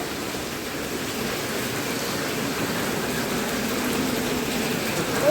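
Heavy rain falls in a dense, unbroken hiss, close and steady throughout, with no voices over it.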